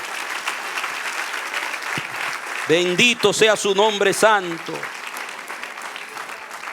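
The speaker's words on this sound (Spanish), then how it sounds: "Denle un aplauso al Señor." Steady applause fills a church congregation's service and holds throughout, while a preacher's voice speaks loudly over it in the middle stretch.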